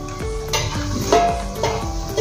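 Khasta masala mathri fry in oil over a low gas flame with a soft, steady sizzle, broken by close metallic clinks and scrapes of a utensil against the pan.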